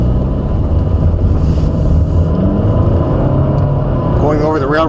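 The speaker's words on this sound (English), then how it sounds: "you might hear that droning noise from the engine" Steady low engine drone inside a 2013 Nissan Altima 2.5 SL while accelerating, a constant loud rumbling hum filling the cabin, with a voice speaking briefly near the end.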